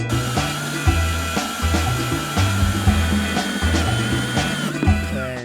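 A power drill enlarges holes to a 1/4-inch size on a Harley-Davidson parts job, giving a steady close whine with a rhythmic, pulsing low hum that runs unbroken throughout.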